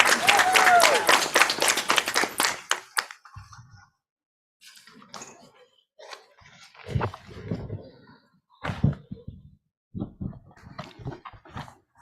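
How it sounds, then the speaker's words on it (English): Audience applause at a university research day, a dense burst of clapping for about three seconds that stops abruptly, followed by quiet scattered taps and rustling. "a big applause goes out to them"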